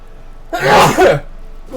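A single sharp sneeze or throat-clearing burst from a person sitting close by, loud and short, followed by quiet room tone and the start of a voice.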